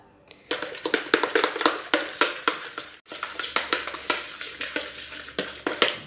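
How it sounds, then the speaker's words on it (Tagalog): Marinade for chicken shish tawook is mixed briskly in a bowl, with a quick run of rhythmic clinks and scrapes of a utensil against the bowl's side, pausing once briefly before resuming; no one speaks. "And imi-mix na lang po natin."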